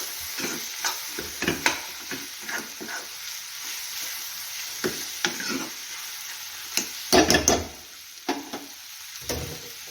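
Spiced whole-lentil masala with chilli powder and salt is stirred in a pan, an irregular run of spoon scrapes and knocks over a steady low sizzle, close and fairly loud.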